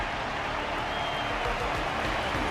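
Steady crowd applause at a fighting match in a video game, a dense wash of clapping that holds at an even level throughout without any breaks.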